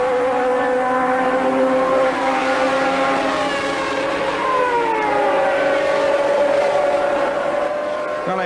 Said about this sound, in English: The extra little bit of power and speed that the McLaren Honda engine has over the Benetton Ford engine showed at the straight, and of course Alan